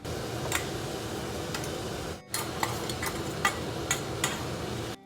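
Ground coconut paste goes into spinach cooking in a pan and is stirred, giving a soft continuous simmering hiss with scattered light scraping taps, close and moderate, broken by a brief dropout midway and no talking.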